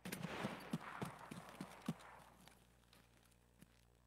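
Rapid gunfire from a shooter video game, probably The Cycle: a quick string of sharp shots in the first two seconds, then sparse single cracks, all fairly faint and distant.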